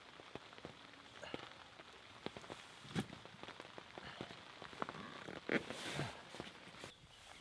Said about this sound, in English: Right, heavy rain again